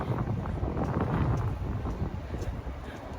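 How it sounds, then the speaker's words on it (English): Gusty wind buffets the microphone, a low rumbling roar that swells and eases, with no talking. "I see the wind blowing a little bit."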